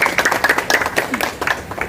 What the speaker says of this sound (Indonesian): Tepuk tangan dulu untuk Pak Gub kita